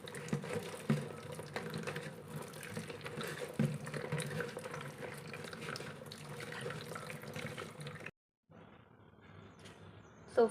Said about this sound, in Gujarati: હવે આપણે તેને સાફ પાણીથી આપણે 2 થી 3 વાર સરસ રીતે ધોઈ લઈશું